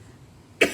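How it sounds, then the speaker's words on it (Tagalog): A single short cough from a person sick with COVID, a sharp burst near the end after a quiet pause. "Ubo"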